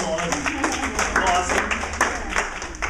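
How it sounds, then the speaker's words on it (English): A room of participants gives a round of applause, a loose patter of hand claps of moderate loudness lasting a few seconds, with voices murmuring alongside. "Give everybody a round of applause."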